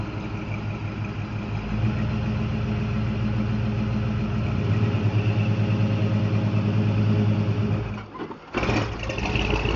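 An off-road vehicle's engine, out muddin', rumbles near and loud, rising as it takes off in second gear at low revs, then briefly drops away before a burst of noise near the end.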